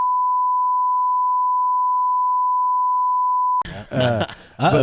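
A steady, pure censor beep holds for about three and a half seconds over a phone number, then cuts off abruptly as a voice begins talking.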